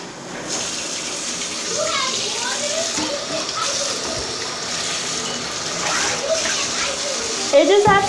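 Water runs steadily from a tap into a bowl, making a constant gushing splash. A voice talks over it nearby and louder, with short clatters near the end.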